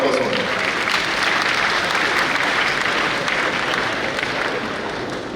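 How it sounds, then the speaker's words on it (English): Sustained audience applause fills a symposium and book launch marking 150 years since the Sagrenti War, a dense, steady roar of many hands holding loud and even for several seconds. "A round of applause for him."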